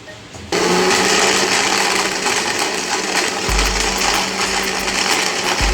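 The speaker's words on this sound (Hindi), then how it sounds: "तो आइए हम इसको दोबारा से एक दफ़ा ब्लेंड करते हैं।" An electric blender whirring steadily as it blends a mango shake with ice cubes, switching on abruptly after a brief quieter moment and running loud and continuous, with a deep rumble in the second half.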